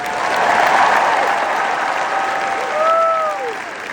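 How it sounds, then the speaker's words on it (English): A large crowd at a University of Alabama graduation ceremony claps loudly and steadily, with a couple of whistles rising near the end. "let's give a big round of applause to your incredible parents, grandparents, and family members"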